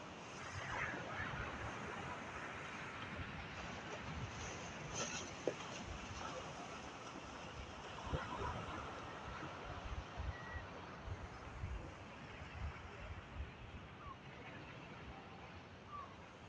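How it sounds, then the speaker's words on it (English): Ocean surf washes continuously onto the beach at Ocean City, Maryland, a steady broadband roar with wind buffeting the microphone and no clear talk. "I'm going to breathe for about 5 breaths, letting you listen to those waves."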